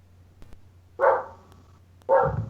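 A dog lets out two loud, close barks about a second apart, each short and sharp, against a quiet room background.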